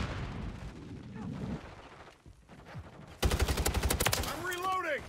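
Rapid bursts of battle-rifle gunfire in a video game match: a loud, dense volley of closely spaced shots breaks out midway and keeps going to the end, with quieter game noise and scattered shots before it.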